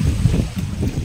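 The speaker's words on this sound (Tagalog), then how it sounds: "Lakas na yung hangin." Strong wind at sea roars steadily and loudly across the microphone from a small boat, with a constant low buffeting rumble and no pauses.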